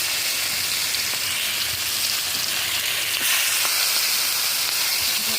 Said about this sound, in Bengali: এখন আমি দিয়ে দিলাম মাছ একটা একটা করে